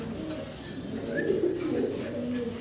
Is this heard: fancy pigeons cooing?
yes